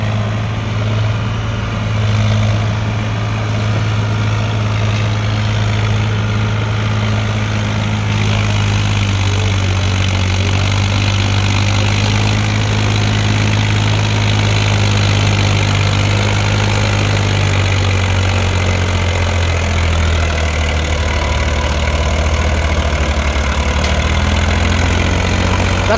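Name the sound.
Powertrac Euro 47 tractor engine straining uphill with loaded trolley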